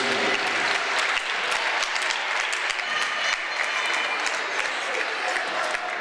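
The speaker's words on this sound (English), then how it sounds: "Nice ovation from the crowd that's here." Crowd at a girls' high school basketball game applauding steadily throughout, a continuous dense clapping ovation with some cheering mixed in, fairly loud and close.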